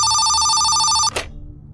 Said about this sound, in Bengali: ফোনটা নামিয়ে রাখার সঙ্গে সঙ্গেই আবার বেজে উঠল